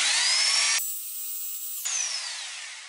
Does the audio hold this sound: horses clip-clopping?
no